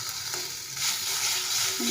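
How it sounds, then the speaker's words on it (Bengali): A steady, moderate sizzle of food frying in mustard oil, with faint stirring scrapes and the hiss swelling slightly partway through. "যখন এটা দলা পেকে যাবে ততক্ষণ ভাজতে হবে"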